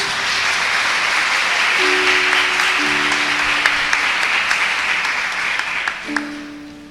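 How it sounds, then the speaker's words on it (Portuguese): A church congregation applauds after the Gospel reading, loud sustained clapping filling the room with a few faint held tones underneath. "Vamos aplaudir o Evangelho de Jesus?"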